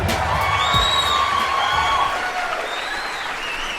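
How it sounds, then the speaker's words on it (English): A canned applause sound effect: a loud crowd clapping with cheers and whoops, sustained and then easing slightly toward the end. "Thank you for the fake applause."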